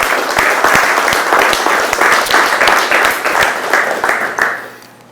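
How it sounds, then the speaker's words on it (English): Audience applause at a Miller Felpax corporate event honoring the sales and marketing team: a steady, loud burst of many hands clapping that holds for several seconds, then begins to thin out and fade at the end. "Give them a round of applause"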